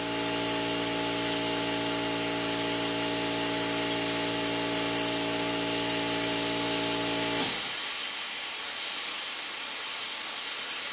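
A hot air plastic welder repairs a motorcycle fairing, giving a loud steady hiss with a strong hum that cuts off partway through, leaving a fainter hiss. No one speaks.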